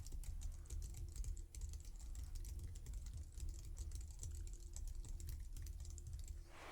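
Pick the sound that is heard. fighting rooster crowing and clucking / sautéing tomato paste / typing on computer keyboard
typing on computer keyboard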